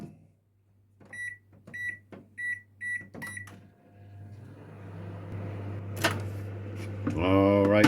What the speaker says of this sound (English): we're just going to microwave these for a little while until they're hot.